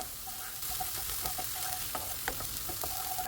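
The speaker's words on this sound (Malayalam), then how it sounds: "അതിലേക്ക് നമ്മൾ അരിഞ്ഞു വെച്ചിട്ടുള്ള പച്ചമുളക് ചേർത്ത് കൊടുത്ത് ഇളക്കുക" Chopped onions and green chillies stir-frying in a pan for egg bhurji, a close, steady sizzle broken by quick scraping stirs of a spatula, with no voices.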